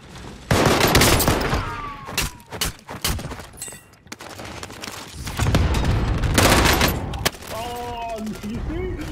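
Enemy cluster strike explosions in a Call of Duty battle royale match on Rebirth Island, a rapid fusillade of booming blasts and gunfire in loud bursts, with voices speaking between them.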